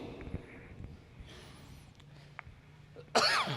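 A single sharp cough bursts out near the end after quiet, faint background noise.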